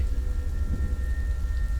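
Steady rain falls throughout a thunderstorm, with a constant low rumble of thunder underneath and a dense hiss of drops, heard alone and fairly loud.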